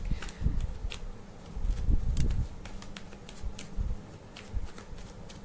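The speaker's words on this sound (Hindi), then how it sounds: "मैं शफल करके लूँगी।" Tarot cards being shuffled by hand, a series of quick, crisp riffling and flicking bursts, fairly close and soft, repeating irregularly with no talking.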